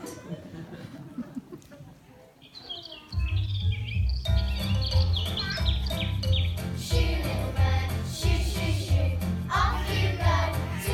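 Bird chirping in a stable where a mule rests: thin, quick chirps that rise briefly, then sit over a loud, steady musical bed.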